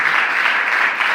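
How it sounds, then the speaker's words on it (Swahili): A crowd of students applauds during a school radio program, dense steady clapping that stays loud throughout the brief moment with no voices over it. "Wapi makofi yake jameni?"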